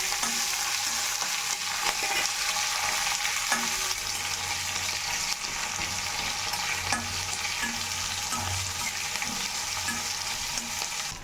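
Mustard seeds, urad dal, onion, green chili and ginger frying in oil for masala dosa filling, a dense continuous sizzle with steady stirring scrapes throughout, close and even, no one speaking.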